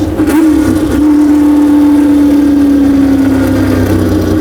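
A Ford Shelby GT350's engine roars loudly and up close on a canyon road, its note climbing briefly and then holding as a sustained, strained drone.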